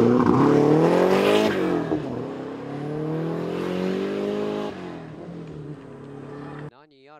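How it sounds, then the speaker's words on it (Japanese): Toyota HiAce van drifting with its engine revving hard, a loud rising and falling engine note that sweeps and holds before cutting off near the end, with voices talking over it. "車が走り出しましたよ"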